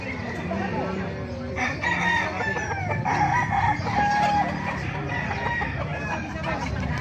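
A white Kelso gamefowl rooster, about three years old, crows repeatedly at a busy outdoor market stall, its calls ringing over a steady crowd murmur and other birds.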